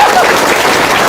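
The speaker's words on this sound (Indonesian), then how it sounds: "Tepuk tangan." A brief loud burst of audience applause at a seminar in Indonesia, dense clapping that sounds close.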